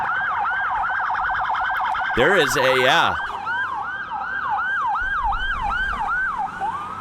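Irish Garda police car siren wailing in a steady repeating sweep, with a brief burst of a harsher, faster tone partway through, then the wail resuming; a voice speaks faintly underneath.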